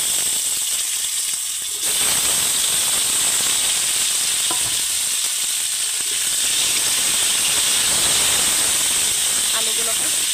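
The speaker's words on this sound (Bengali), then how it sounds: "এবার কাটা আলুগুলো এর মধ্যে দিয়ে দেব।" Cut potatoes go into hot oil with blackened bay leaves and cumin for a fish and potato curry, setting off a sudden loud, close hissing sizzle that continues steadily, with occasional clinks of a utensil.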